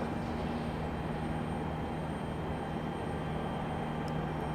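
An MD-11 jet airliner departs Raleigh-Durham airport as a steady, distant engine roar with a low rumble holds at a constant level throughout.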